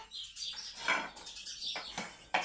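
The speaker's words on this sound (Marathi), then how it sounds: "पण आता लई येऊ राहिला चिवताईचा आवाज" Sparrows chirp in a scatter of short, high tweets, some overlapping, fairly close and clear over a light background hum, with no talking.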